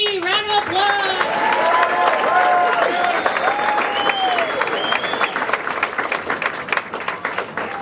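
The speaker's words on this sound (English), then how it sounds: "Round of applause." Comedy club audience applauding and cheering as a comedian takes the stage, loud sustained clapping with whoops and voices shouting over it, tapering toward the end.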